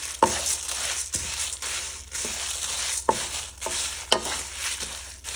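Tamarind roasting in a dry spice mixture for koora kharam, a spoon scraping and stirring in repeated strokes with a gritty crackle and faint sizzle between them, close by.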